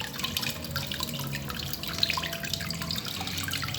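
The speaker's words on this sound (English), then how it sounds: "so I'm actually going to be washing it" Tap water runs steadily into a sink while dry scent leaf is washed beneath it, a close continuous splashing hiss with scattered drips and no talking.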